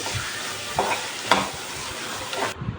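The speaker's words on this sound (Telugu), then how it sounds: "మనం సన్నగా కట్ చేసుకున్న ఆనియన్స్ పచ్చిమిర్చి వేసుకొని ఇవంతా కొంచెం ఫ్రై అయిపోవాలి" Thinly sliced onions and green chillies frying in a pan, a steady hiss of sizzling oil with a few scrapes of stirring, close and alone.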